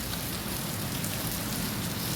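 Heavy rain pours down steadily in Marikina, a dense, even hiss of drops hitting surfaces with no breaks and no voices.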